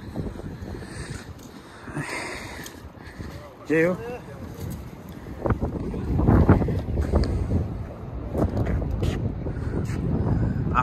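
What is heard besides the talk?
wind blowing at Sydney Harbour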